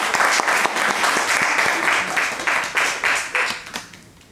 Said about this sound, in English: Why don't you give me a clap?